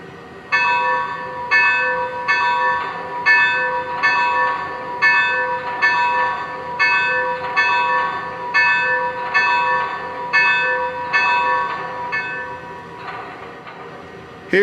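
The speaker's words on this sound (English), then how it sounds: "now let's give a listen to the bell" A Lionel N&W 2-8-8-2 Y3 model locomotive bell rings steadily, about a dozen evenly spaced clangs with a ringing tone, close and clear, and no voices.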